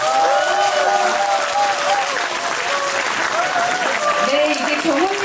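An audience at a book concert claps steadily and loudly throughout, while a voice speaks over the applause.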